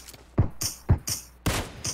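Gunfire in a multiplayer shooter video game, about half a dozen sharp shots in quick bursts, loud and close with bright ringing tails, no talk over them.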